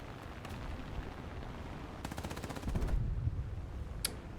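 Aircraft machine guns fire in the War Thunder video game, heard as short rapid bursts of rattling shots over a steady engine drone, with a denser burst near the middle and a sharp crack toward the end.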